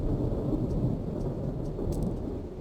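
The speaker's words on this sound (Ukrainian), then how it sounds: "Йой, гляньте, яка тут погода реалістична, як дощить, навіть гримить." Rain pours steadily in the video game Anno 117, with low rumbling thunder rolling beneath the dense hiss, loud and continuous with no talk.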